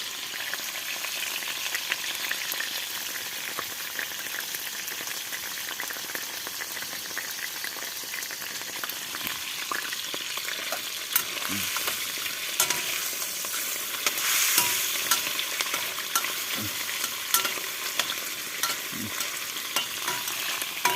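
Steady sizzling of fish and crab frying in oil in a pan, a continuous hiss with soft scraping stirs and occasional pops, fairly quiet and without talk.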